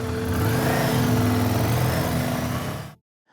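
A Ducati Scrambler motorcycle engine revs loud and close in a continuous, rising mechanical roar that cuts off abruptly near the end.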